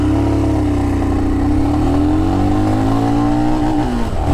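A 2021 Royal Enfield Himalayan 400cc motorcycle engine revs loudly and continuously, its pitch climbing steadily from idle with no voices over it.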